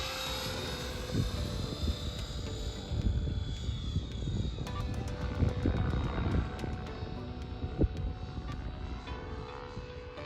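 A radio-controlled model helicopter flies nearby with a steady whine of its rotor and motor, shifting in pitch as it manoeuvres, with sharp clicks and ticks scattered through.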